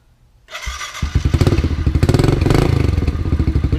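A Kawasaki KLX 110 small dirt bike engine starts after a thud and settles into a steady, rapid, close-up idle with rattly clatter, running loud throughout with no talking.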